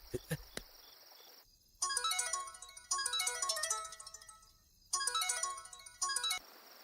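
A mobile phone ringtone rings unanswered in repeated melodic bursts with short gaps, after a few sharp clicks at the start.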